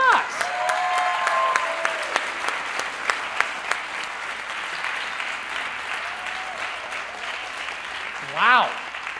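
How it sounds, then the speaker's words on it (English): Audience applause at a TEDx event at Grand Canyon University, a steady broad wash of clapping throughout, with a brief whistle-like sweep and a voice near the end. "Let's give another round of applause."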